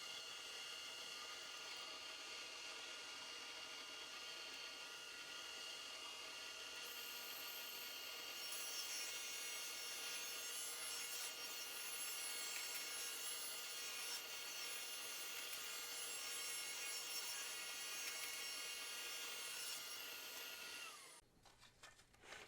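Steady, continuous whine of a power tool cutting through wood, loud and close, running without pause before stopping abruptly near the end.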